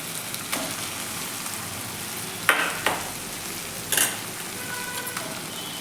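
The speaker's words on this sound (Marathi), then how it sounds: "कांदा टॅमॅटो आणि हे वाटण छान असं आपल्याला परतून घ्यायचं आहे" Ground masala paste with onion and tomato is stirred and fried in a pan for a soybean curry, giving a low, steady sizzle broken by a few sharp scraping and stirring bursts.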